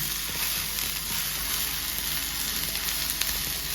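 Grated coconut, about a cup, dry-roasts in a pan for a village-style chicken sambar, giving a steady soft sizzle and faint scraping stir that holds level throughout, with no voices.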